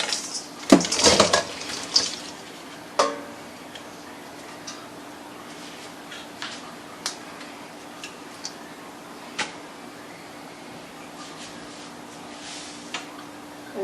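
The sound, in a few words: pouring soup broth and vegetables into a colander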